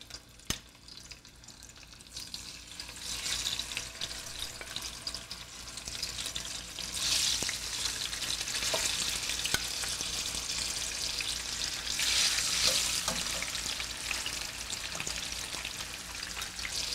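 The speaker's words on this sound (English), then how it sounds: "So I'm going to put the fish seasoned side down, and then we're going to let it sear to get that nice crispy crust for about 3 minutes." Seasoned salmon fillet laid into a hot pan to sear for a crispy crust: a sudden hiss that builds into a steady, bright sizzle with scattered pops, close and moderately loud, with no talking.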